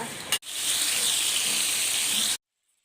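Fish frying on a hot tawa gives a loud, steady sizzle close by, cut briefly near the start and stopping abruptly after about two seconds, with no talking.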